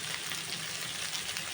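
Turmeric, chili powder and salt fry in a pan for a duck egg curry, giving a soft, steady crackling sizzle that stays fairly quiet throughout, with no talking.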